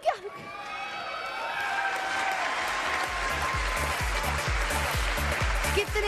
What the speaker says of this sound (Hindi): तालियां होनी चाहिए साथ सबके लिए